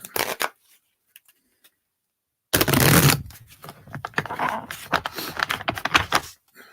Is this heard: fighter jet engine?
no